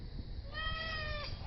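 A single loud, drawn-out meow from a cat of a rarely meowing breed such as a Bombay or Russian Blue, rising then falling over a steady background hum.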